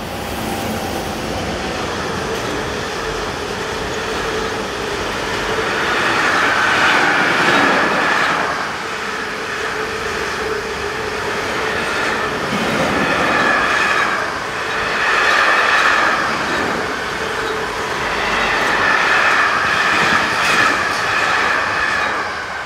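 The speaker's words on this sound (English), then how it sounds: "This is a very late-running DGS 41952 from Vels in Austria to Duisburg-Ruhrhorthafen" A late-running freight train hauled by Austrian 1116-class electric locomotives passes on a German main line, from Wels in Austria toward Duisburg: a loud, continuous rumble with rhythmic wheel clatter and faint squeal, swelling and fading as wagons roll by.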